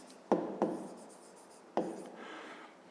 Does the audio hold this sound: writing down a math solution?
yes